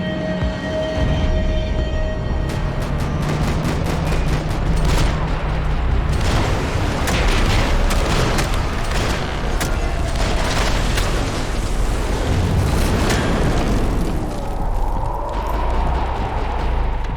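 Dense, continuous gunfire and booming blasts in the 2012 video game Max Payne 3, with rapid sharp shot bursts stacked over a rumbling low roar throughout, loud and close.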